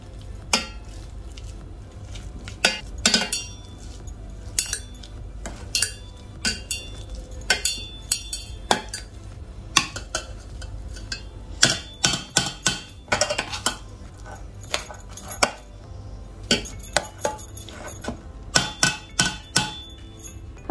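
Two boiled potatoes being mashed in a bowl for fasting tikki, giving irregular bursts of clinking, knocking utensil strikes against the bowl, close and fairly loud, with no talking.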